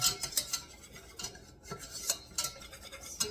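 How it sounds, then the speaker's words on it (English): A roux being stirred in a pan for a homemade lunch, with repeated quiet scraping and clinks of a utensil against the pan in an irregular rhythm. No one talks. "Just making a roux."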